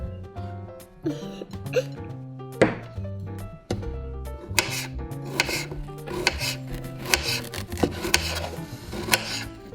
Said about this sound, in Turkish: Sırada çileklerimiz var. Onları doğrayalım.